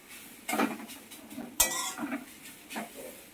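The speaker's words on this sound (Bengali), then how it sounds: "ভালো করে নাড়তে হবে, ভালো করে লাল লাল করে ভাজা ভাজা করতে হবে" Papaya frying in ghee in a pan as a spoon stirs it, with several distinct metal scrapes and clanks against the pan over a quiet background, no speech.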